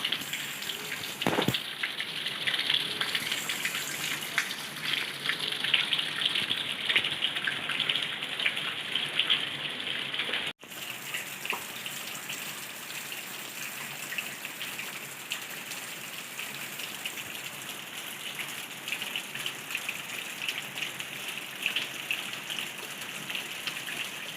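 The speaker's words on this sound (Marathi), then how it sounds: "म्हणजे पाऊस खूपच जोरात पडत आहे" Heavy unseasonal rain pours down into a farmhouse courtyard, a dense continuous hiss and patter of drops with water gushing on the ground, steady and close throughout with no talk.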